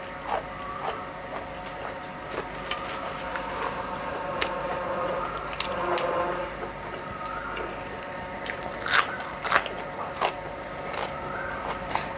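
Raw onion is bitten and chewed close by in scattered crisp crunches and clicks over a quiet background, with a few louder bites toward the end.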